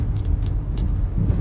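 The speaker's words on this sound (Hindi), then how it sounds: "बहुत गंदी आवाज़ आ रही है टायर की वजह से" Steady low road rumble from an Audi Q3 driving with worn tyres and a bad steering alignment, a continuous close droning roar with small swells, no voices.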